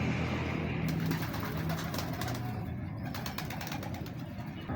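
A pigeon coos in low, repeated murmurs close by, under a steady wash of background noise and faint mechanical sounds.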